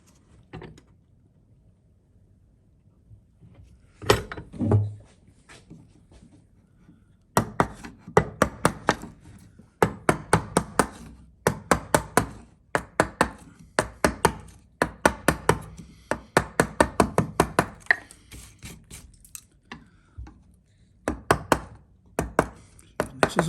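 A hand chisel cuts into a wooden workpiece with many sharp, close taps and scraping bites, coming in quick irregular bursts after a quieter opening, with no talk.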